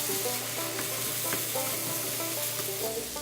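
Egg and pork being stirred in a frying pan for pork fried rice: steady sizzling with repeated scraping strokes of a utensil against the pan, close and continuous, no talking.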